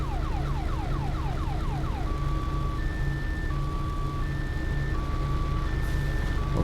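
A truck in Farming Simulator 19 backs up with an electronic warning tone, a steady alternating pattern of two pitched beeps that follows a brief rising and falling sweep, heard over a constant low engine drone.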